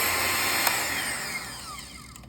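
An electric hand mixer hums steadily on low speed, beating a cream cheese dessert mixture in a bowl, close and continuous with a slight rattle, then gradually easing off, with no talk.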